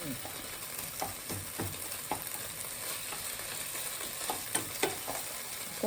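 Curry paste and sugar stir-fry in a pan with beans, a continuous close sizzle broken by repeated scraping and knocking of the spatula as the mixture is tossed.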